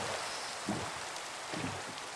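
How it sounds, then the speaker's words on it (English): Rain in the Minecraft video game falls as a steady, soft hiss with faint patters, an even, continuous wash and no talking. "I guess I like the rain."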